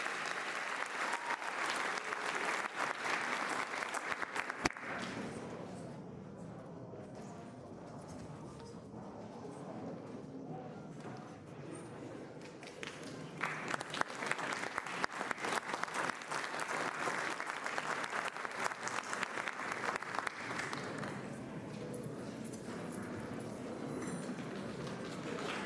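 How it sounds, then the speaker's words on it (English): Sustained audience applause at a scholarship awards ceremony, a dense wash of many hands clapping that dips briefly midway, then swells again and continues to the end. "Please give them all a big round of applause while I give them a check."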